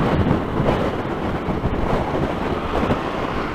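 Strong wind roars and buffets a microphone beside the Thames in London, a loud, continuous broadband rush with gusty surges and no speech.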